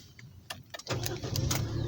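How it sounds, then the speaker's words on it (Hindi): A Suzuki Alto VXL AGS car engine cranks and catches, a few sharp clicks giving way to a steady, close idle rumble that settles in and continues. "ये गाड़ी का इंजन स्टार्ट हो गया"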